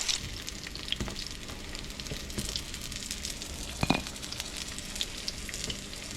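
Bowfin fish tempura frying in hot oil, a steady, close crackling sizzle with scattered pops and brief louder spatters, with no voices.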